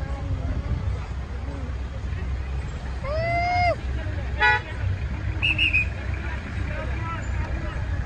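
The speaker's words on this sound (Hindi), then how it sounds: "ये मिनी जीप।" A mini jeep drives amid a street celebration, its horn sounding a few short toots over a steady engine rumble, with a crowd chattering in the background.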